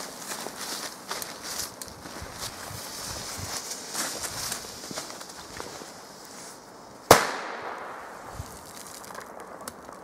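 A Diamond Super 2 firecracker goes off with one loud, sharp bang in a snowy forest, followed by a fading echo, after a stretch of faint crackling and footsteps crunching nearby.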